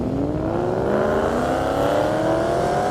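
A 1,000-horsepower Cadillac CTS-V and a 750-horsepower ethanol-fueled GT500 drag car scream down an airstrip in a sustained, loud wail of rising engine pitch with no talk.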